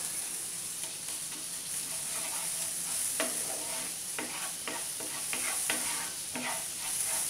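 Garlic sautéing in a pan, a continuous soft sizzle under repeated scraping strokes of a spoon that grow more frequent toward the end.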